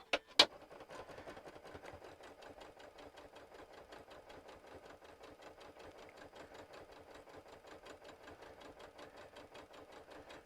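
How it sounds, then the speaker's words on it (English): A sewing machine chain-stitching quilt pieces for a gnome Christmas table topper runs in a steady, rapid needle rhythm from start to finish, close and moderately loud, after a couple of sharp clicks at the very beginning. "I'm over at the sewing machine again"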